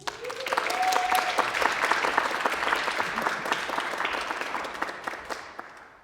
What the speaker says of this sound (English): But big round of applause for Dean.